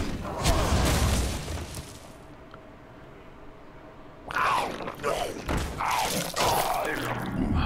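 Lava Burst spell effect in the Hearthstone video game: a heavy thud and crackling impact, followed after a quiet lull by a second loud rumbling burst with shattering, rocky hits.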